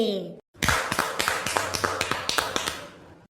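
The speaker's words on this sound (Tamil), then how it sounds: "யாய் எதுக்கு கை தட்டுறீங்க" A cartoon character claps in a Tamil children's animated episode. After a brief earlier sound and a short gap, a quick run of a dozen or so sharp, fairly loud claps follows in an uneven rhythm.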